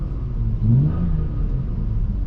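A Volvo P3 3.0L engine idles with a loud, steady rumble, swelling briefly in a short rev before settling back to an even drone.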